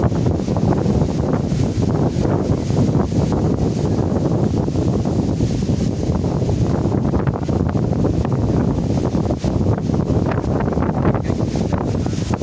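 Strong wind buffets the microphone in a constant loud roar with gusty rumbling, no voices.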